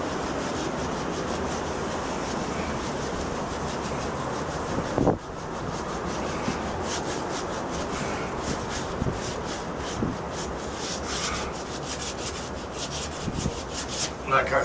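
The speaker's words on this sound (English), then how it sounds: "I need to sand." Steady, continuous rubbing of sandpaper over a drywall patch in sheetrock, close and fairly loud, with a few brief knocks and scrapes.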